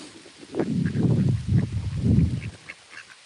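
Several ducks quacking close by in a few loud, overlapping bursts of harsh calls, then trailing off into quieter scattered quacks.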